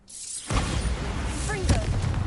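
Bombarda spell blast in Hogwarts Legacy: a sudden loud booming explosion with a rushing rumble that fills the short moment, heard up close.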